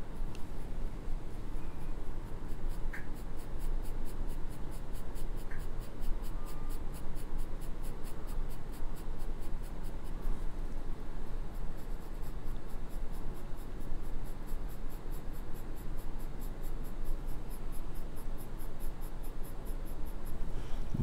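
Soft continuous scratching of graphite pencils shading on drawing paper, steady and close for about twenty seconds with no talk.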